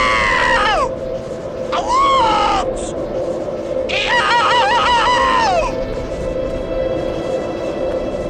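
Repeated shrill, wavering screams from a character in the Elder Scrolls Online video game, three long anguished cries that rise and fall over a constant game ambience.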